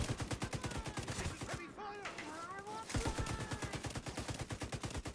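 Turret gunfire in The Division 2, rapid bursts of loud automatic shots with a brief pause in the middle where other game sounds rise, then steady firing again.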